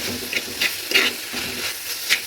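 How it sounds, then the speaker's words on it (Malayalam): A spatula stirs spinach thoran in a hot pan, giving a steady sizzle with a few scraping strokes through the short stretch and no voice over it. "നമ്മളിതാ ഇതുപോലെ ഒന്ന് ഇളക്കി കൊടുക്കണം"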